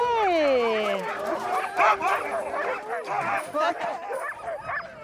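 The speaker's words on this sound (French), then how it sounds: "on travaille beaucoup avec le chien esquimau du Groenland" Greenland sled dogs bark, yip and whimper excitedly up close, an overlapping chorus of high yelps and short barks, with a person speaking briefly among them.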